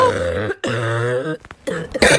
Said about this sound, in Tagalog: ang crunchy ng ubo mo ha, crispy